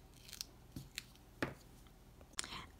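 Scissors snip through a small piece of foam tape for a rectangle pop-up box card, a few sharp, close cuts spaced out in quiet, with a louder snip at the end.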